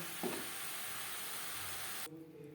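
Potatoes and pointed gourd frying in a pan, a dense even sizzle close up that cuts off abruptly near the end, leaving a faint low hum.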